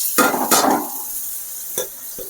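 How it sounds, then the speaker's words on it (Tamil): Onions sautéing in a pan with ginger for appalam rice: two loud stirring scrapes with sizzling at the start, then a steady low sizzle with a couple of short spoon taps later, and no talk. "வெங்காயம் நல்லா வதங்கிட்டு இருக்கு."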